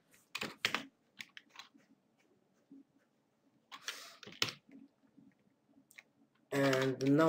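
Quick, sparse clicks of keys on a computer keyboard as code is typed, arriving in short irregular clusters separated by quiet gaps, with a voice speaking over the keystrokes toward the end.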